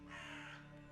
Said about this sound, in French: Tu vois ces corbeaux?